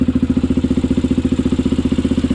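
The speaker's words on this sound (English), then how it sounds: "I just turned off the gas, so I'm letting the quad die out, but it's revving up again." A quad bike engine runs with a steady, rapid thumping putter, a close, loud and even idle-like rhythm with no voices.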